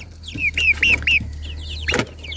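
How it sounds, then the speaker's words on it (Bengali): A tiger chicken in a hen house gives several loud close clucks in quick succession, then a sharp squawk with a brief rustle of movement. "এটা হচ্ছে আমার টাইগার মুরগি"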